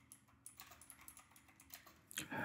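Rapid typing on a computer keyboard, a steady run of close, light key clicks over about two seconds, ending in a louder burst of keystrokes.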